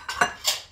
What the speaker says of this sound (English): He's doing dishes for me